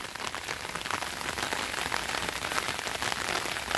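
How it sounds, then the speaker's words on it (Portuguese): Steady rain pours onto a garden in northeastern Brazil, a dense, even hiss of drops striking leaves and soil that holds constant and fairly close throughout, with no voices. "mas começou a chover"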